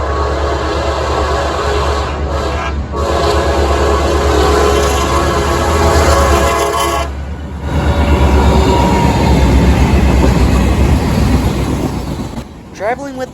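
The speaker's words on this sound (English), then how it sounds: "Traveling with the mixed freight from Walbridge, Ohio to Columbus, Ohio was a former CSX SD70 Ace lettered for the Robertville and Cyclone Railway." A CSX mixed freight train led by an SD70 Ace locomotive passes a railroad crossing in Ohio with a loud, continuous rumble and clatter of rolling cars, briefly easing before surging again, with squeaking toward the end.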